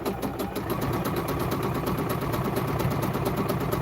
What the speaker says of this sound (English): when I start sewing, it brings the foot down and it takes off